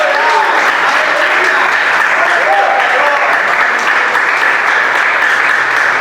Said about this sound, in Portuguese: Pode aplaudir bem forte o Senhor.